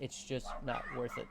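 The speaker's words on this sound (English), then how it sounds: "Sorry about the dogs going off at it." Dogs bark and yip in quick, high bursts close by, mixed in with someone talking.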